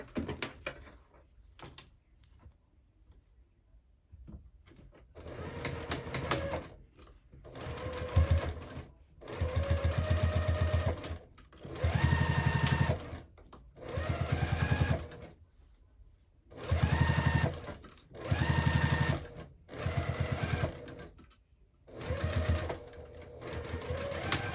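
A sewing machine stitches a handbag in repeated bursts of steady running, each lasting a few seconds, broken by short pauses and small handling clicks, close and fairly loud with no talk.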